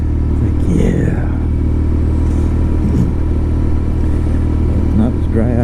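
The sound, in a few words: BMW R nineT motorcycle engine, throttle off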